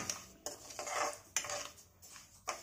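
A spoon scrapes and clinks against a pan while dry wheat rava is stirred for upma on a stove. Several distinct metallic scrapes come in an uneven rhythm, close but fairly quiet, with no voices.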